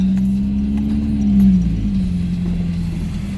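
A car rolls slowly into a parking spot, its engine giving a steady, close low hum that dips slightly as it settles, with no voices.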